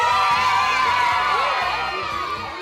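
Children cheering, whooping and screaming with excitement about Minecraft, a loud crowd of young voices shouting together over a steady background beat.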